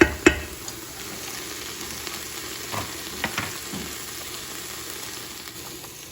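A chicken carcass simmers in a soup pot, giving a steady, faint bubbling and sizzling hiss with a few soft knocks near the start, and no talking.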